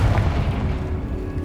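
A Confringo spell explosion in Hogwarts Legacy lands as one deep booming blast, loud and close, with a rumbling low tail that fades slowly.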